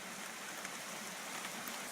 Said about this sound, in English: So it's raining again. Big fat rain.